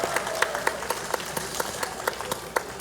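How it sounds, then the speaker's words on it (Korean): Audience applause at a ceremony celebrating the designation of Dongseongno in Daegu as a tourism special zone: a dense, steady burst of many hands clapping, fairly close and loud, with no speech over it. "그동안 한마음 한뜻으로 특구 지정에 애를 써주신 우리 홍준표 시장님 박수 한번 부탁드리겠습니다."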